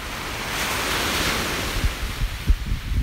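Gulf of Mexico surf on a west-facing Southwest Florida beach, a continuous close wash of breaking waves with wind buffeting the microphone and low rumbling gusts.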